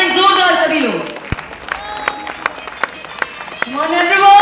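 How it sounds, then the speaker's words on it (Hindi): An event audience welcoming a speaker on stage gives scattered, uneven claps, while an announcer talks loudly over an amplified sound system before and after the clapping. "Come on everyone, put your hands together."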